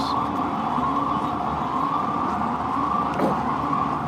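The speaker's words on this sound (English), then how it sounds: "It never fails with the ambulances." A wailing emergency siren, fitting an ambulance, holds a steady, fairly distant tone throughout with a constant background rumble, without any clear rise or fall of a pass-by.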